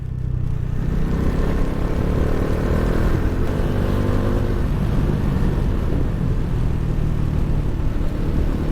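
A vehicle drives along a road decorated with rangoli near Pargad Fort, its engine a steady, loud drone with tyre and road rumble and no voices.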